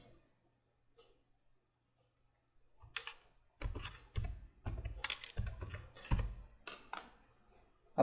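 Java code being typed on a computer keyboard: after near silence, bursts of quick close keystrokes come in uneven runs, loud and crisp with short pauses between clusters.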